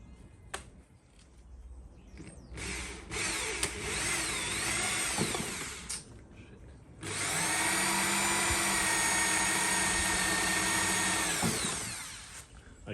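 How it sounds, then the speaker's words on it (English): Power drill boring holes in a cast iron coal basket, a pilot hole followed by a much larger bit: a loud, close, sustained whine in long runs with brief stops, the final run steady and unbroken for several seconds. "I'm going to put a pilot hole and then I'm going in with something a lot bigger to get the width."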